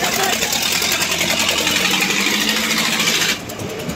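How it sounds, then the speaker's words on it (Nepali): A Columbus swinging boat ride at an amusement park starts up, a loud steady mechanical motor hum and whine that drops off abruptly near the end. "अब चालु गर्दैछ डुङ्गा"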